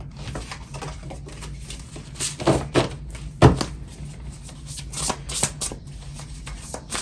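A tarot card deck is shuffled by hand in bursts of crisp riffling and flapping, with a few soft thumps as cards are tapped together, close and alone.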